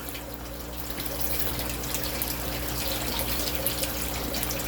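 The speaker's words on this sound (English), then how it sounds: "they make this noise when the food hits the water" Aquaponics fish splash and churn at the surface as food hits the water, a steady close rushing like running water that grows slightly louder.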